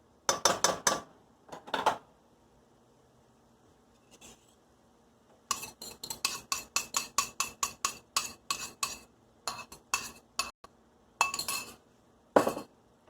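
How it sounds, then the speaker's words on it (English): A utensil stirs eggs in a cooking pan with bitter melon and tomato, giving quiet, rapid rhythmic clinks and scrapes against the metal in several bursts with short pauses between them. "You just stir the eggs."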